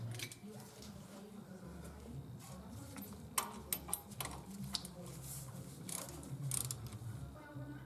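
Ratchet clicks come in short bursts while an F250's front brake caliper bolts are tightened down during a rotor replacement, set against a low steady hum and mechanical background noise.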